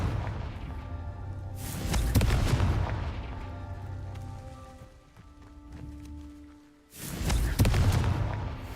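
Booming spell blasts of the Confringo fire spell in the game Hogwarts Legacy, two loud explosive bursts several seconds apart with rumbling, crackling combat noise in between.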